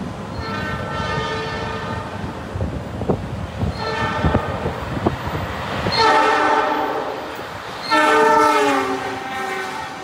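An express train rushes through Maos station in Indonesia at high speed with a loud, rumbling roll, while its horn sounds in several long, sustained blasts that swell toward the end.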